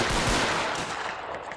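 Anglo-Zulu war reenactors of the 33rd Regiment of Foot fire a rifle volley outdoors, a single loud crack that rolls into a long fading echo.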